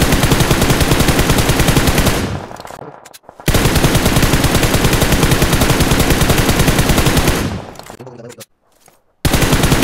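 Close-range automatic gunfire in the mobile battle game BGMI, loud dense rapid bursts that cut out briefly twice before resuming, with a player's voice faintly mixed in.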